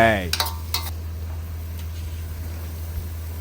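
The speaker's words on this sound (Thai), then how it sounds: "ใส่หน่อไม้ลงไปเลยนะคะทุกคน ผัดให้เข้ากันดีเลยจ้า" Bamboo shoots are stirred into a pan with pork for a Thai bamboo shoot curry. A few bright metal clinks and scrapes come close together near the start, then a steady low hum fills the rest.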